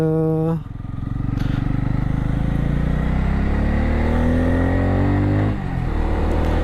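A Bajaj Pulsar 250N motorcycle engine idles, then revs up with a rising, rough mechanical drone that holds loud and close before easing back near the end.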